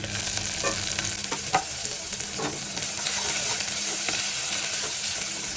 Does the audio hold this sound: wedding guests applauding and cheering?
no